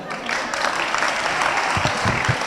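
Audience at a lecture on democracy and the rule of law claps steadily for a couple of seconds, a continuous moderate patter with a few closer, sharper claps near the end.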